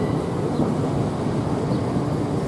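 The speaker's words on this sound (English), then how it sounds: "11:40 Southeastern service to London Victoria by Maidstone East and Canterbury West is now departing" A Southeastern train pulls out of Ramsgate station, a steady loud rumble of wheels and traction noise that holds evenly throughout, with no voices.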